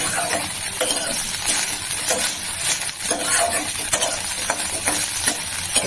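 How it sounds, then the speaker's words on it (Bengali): Egg, cauliflower and green chillies fry until browned for egg fried rice, a loud continuous sizzle with repeated stirring scrapes and light utensil clinks close by. "ব্রাউন করে ভেজে দিচ্ছি বন্ধুরা"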